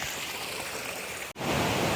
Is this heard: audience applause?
no